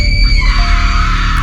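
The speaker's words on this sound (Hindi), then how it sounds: "डोल की चीखने की आवाज आती है" A horror-story sound effect of a possessed doll screaming after a dagger strikes its head, a loud sustained shriek with strained tonal wails lasting the whole moment, no talk over it.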